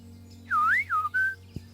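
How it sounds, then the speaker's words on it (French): A father's rallying whistle carries from across the way in a forest setting: one fairly distant, clear phrase that swoops up and back down, then a short level note, over a steady low hum, followed by a soft knock. "C'est notre sifflement de ralliement."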